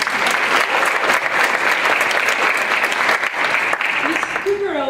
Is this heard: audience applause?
yes